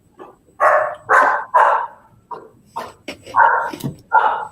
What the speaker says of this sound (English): you hear our dog?